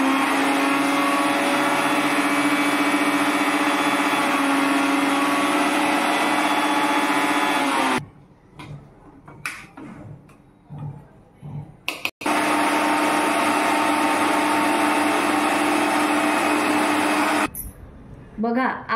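Mixer grinder blending mint chutney with cold water: a loud, steady motor whine that runs for several seconds, drops out briefly with some clatter in between, then starts again at full volume.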